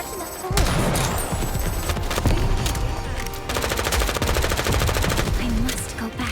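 Continuous rapid gunfire and bursts of automatic weapons fire from the mobile game Goddess of Victory: Nikke, dense and loud throughout with game sound effects layered over it and no talking.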